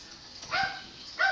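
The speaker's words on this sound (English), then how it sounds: "tell the dog stop barking." Two short dog barks from a single dog at home in the evening, a moderately close yelp near the middle and another at the very end, with quiet background between them.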